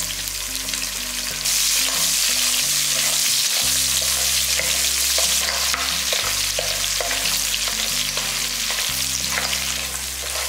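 Small onions fry in hot oil for a fish curry, a loud, steady, dense sizzle running throughout with occasional stirring, alongside a low tonal hum, with no talk.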